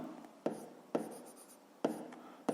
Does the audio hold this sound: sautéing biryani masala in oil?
no